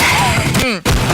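Gunfire from a dubbed action film, a short burst of sharp loud shots and a booming hit over a dramatic film soundtrack, with a sudden cut to silence before the noise resumes.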